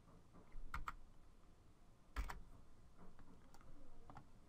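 A few keys are pressed on a computer keyboard during drafting work: sparse, distinct clicks in small clusters, quiet and close with a faint room hum between them.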